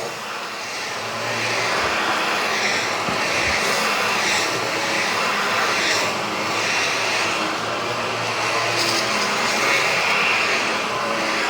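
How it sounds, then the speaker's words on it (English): A steady, loud whooshing motor drone runs throughout with a broad airy roar, like a vacuum cleaner working close by. "This is actually a really nice vacuum."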